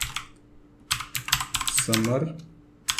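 Code is typed on a computer keyboard in quick uneven bursts of close, crisp key clicks, with someone speaking Hindi briefly over the typing partway through.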